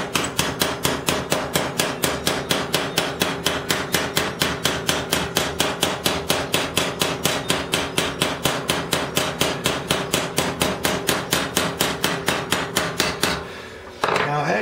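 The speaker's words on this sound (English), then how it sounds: "Now I'm going to shrink this metal back down until it's flat just by hitting it." Sheet metal for a scratch-built 1/10 scale crawler being hammered flat on a dolly with no heat, a loud, fast, evenly spaced run of sharp metallic blows that continues for most of the stretch and stops abruptly near the end.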